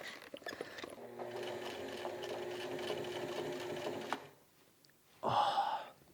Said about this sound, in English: Now run the stitch for the pleat up the back here.